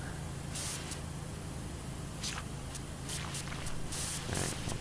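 A pressure washer sprays in PowerWash Simulator while cleaning a carnival level, a continuous broad hissing jet that surges and cuts off in short bursts across the stretch.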